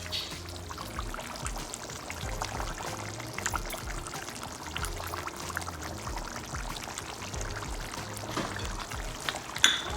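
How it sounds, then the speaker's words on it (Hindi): Kewra water poured into a pot of cooking meat, a steady close trickle over a faint background of kitchen sounds and a low hum. "और थोड़ा सा केवड़ा डालूँगी, केवड़ा वाटर"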